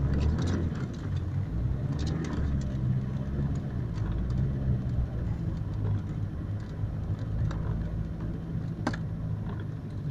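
A car drives along a wintry road toward a forestry station, a steady low engine rumble and road noise heard from inside the vehicle, continuous and fairly loud with a few faint clicks.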